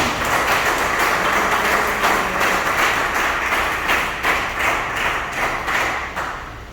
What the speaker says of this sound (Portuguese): Dá uma salva de palmas para Cristo